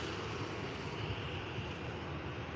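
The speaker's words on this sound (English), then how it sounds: "we also have a Ryanair 737 MAX 8 takeoff to Kerry, now going off." A Ryanair Boeing 737 MAX 8 takes off at Faro Airport, heard as a steady, distant broadband jet roar that stays level throughout the short stretch, with no voices.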